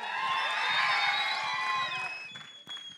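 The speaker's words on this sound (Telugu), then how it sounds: "ఒక్కసారి శివేంద్ర గారి కోసం గట్టిగా చప్పట్లు." An audience at the HanuMan 100 days celebration event cheers and whoops loudly, a dense burst of crowd noise that fades toward the end.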